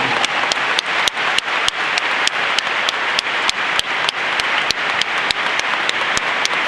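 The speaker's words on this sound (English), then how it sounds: "let's have a round of applause for Sophia and Albert Einstein" A conference crowd at a tech summit applauding, a sustained roar of clapping with sharp, regular claps cutting through the dense wash, loud and continuous over several seconds.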